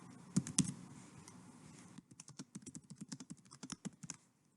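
Rapid typing on a computer keyboard while writing a post in Microsoft Teams: a couple of sharp clicks, a brief pause, then a quick irregular run of close, crisp keystrokes with no talking.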